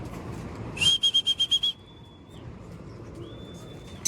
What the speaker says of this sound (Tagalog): may ibon na tayo